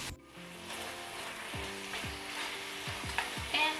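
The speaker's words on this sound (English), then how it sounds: "Cook over medium heat until the pork is fully cooked, another additional 5 minutes or so." Pork in ginger sauce frying over medium heat, a soft continuous sizzle with repeated light scrapes and taps of a spatula against the pan toward the end, no talking.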